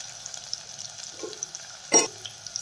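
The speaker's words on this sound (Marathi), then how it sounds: "आणि हे छान तळून घेऊया।" Garam masala and red chilli powder fry in a pan for masala khichdi, a quiet close sizzle with light stirring and one brief louder clatter partway through.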